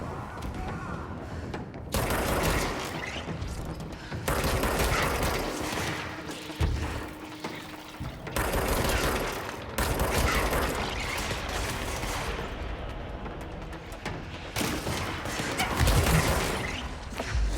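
Gunfire in the video game Control crackles in repeated loud bursts and volleys across the whole stretch, with brief lulls between salvos and mechanical clanks mixed in.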